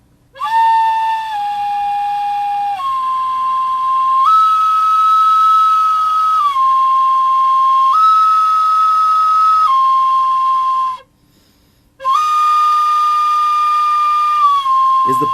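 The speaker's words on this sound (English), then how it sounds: "Remove your fingers from the holes one by one each time and blow the flute." Sustained tones from a blown flute step upward in pitch as the finger holes are uncovered one at a time. The notes are loud and clear, held for a few seconds each, with a brief pause before the last.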